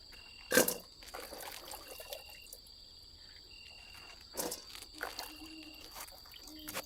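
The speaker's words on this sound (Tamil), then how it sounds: "தண்ணி ஊற்றி பச்சை மிளகாவ நல்லா தண்ணியை நல்லா விட்டு கழுவுங்க" Water is poured over green chillies to wash them, producing a few brief splashing gushes and soft trickles, with quiet insect-like chirping in the background.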